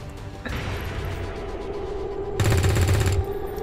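Gunfire in the turn-based video game XCOM 2 over mechanical clanking: a sharp opening report, a rumbling stretch, then a loud, dense burst of rapid fire lasting under a second.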